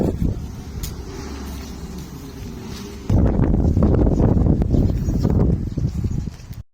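Steady low rumble of wind buffeting outdoors, growing noticeably louder and gustier halfway through before fading out.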